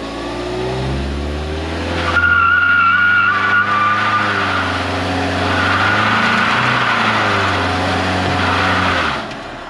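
A Ford Mustang EcoBoost doing a burnout with the brake held and the throttle floored: loud engine revving that rises and holds, with tire squeal running over it for several seconds before cutting off.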